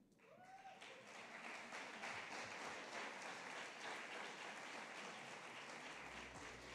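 An audience at the Hult Prize 2022 Global Finals applauds as the judges come up, a sustained, dense wash of clapping filling the room at an even level throughout.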